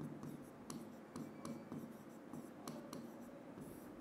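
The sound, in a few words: writing by hand during a lecture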